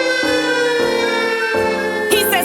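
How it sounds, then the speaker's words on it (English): A loud emergency vehicle siren wails nearby in stepped, shifting tones, continuous and dominant, with a brief harsher burst near the end. "He hears the siren"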